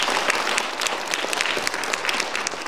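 Applause from the audience at the opening ceremony of the Nogeun-ri International Peace Forum, a brief burst of fairly loud, even clapping from a seated crowd.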